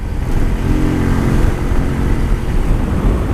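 A CG motorcycle engine running with heavy vibration, giving a loud, steady, rough rumble with a continuous gritty buzz and no voices over it.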